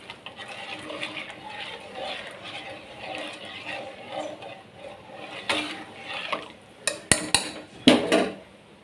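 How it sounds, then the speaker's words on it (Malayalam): A spoon stirs palada payasam mix in a metal pot, giving soft scraping with faint liquid sloshing, then several sharp metallic clinks and knocks against the pot toward the end, close and fairly loud. "നന്നായിട്ടൊന്ന് ഇളക്കി കൊടുക്കട്ടോ."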